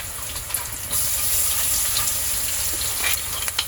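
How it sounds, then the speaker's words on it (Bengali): Water poured into a pan of ready-mixed spices frying in oil for an eggplant and mutton curry, a sudden gushing hiss that settles into steady steaming sizzle with occasional pops, close and loud, no voices. "সাথে কিছু পানি দিয়ে দিচ্ছি।"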